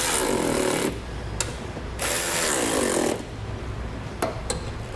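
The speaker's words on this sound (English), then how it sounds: "then snug these bolts down" Ratcheting wrench work snugging bracket bolts during a DeeZee Rough Step running board install, with bursts of quick clicking and mechanical rasping separated by quieter gaps, close and without speech.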